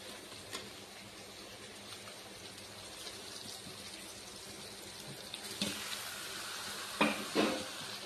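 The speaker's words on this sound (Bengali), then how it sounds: "এবার আমি ডিমের অমলেটের টুকরোগুলো এখানে দিয়ে দেবো।" Omelette pieces are tipped into masala sizzling in oil for omelette curry. A constant frying hiss swells into louder sputtering bursts near the end.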